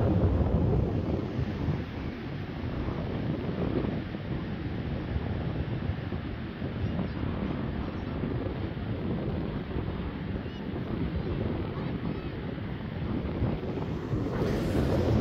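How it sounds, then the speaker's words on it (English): Strong wind roars across an ocean beach, buffeting the microphone in a steady, loud rush with surf blended underneath, unbroken for the whole stretch. "the wind's really picking up"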